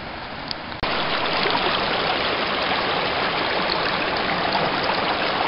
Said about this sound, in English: Back to running the sluice.